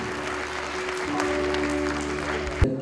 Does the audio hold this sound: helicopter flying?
no